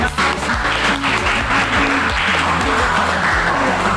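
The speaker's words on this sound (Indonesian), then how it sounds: "Tepuk tangan untuk kita semua." Audience applause in a school classroom workshop, a dense wash of clapping heard over a low, rhythmic musical background throughout.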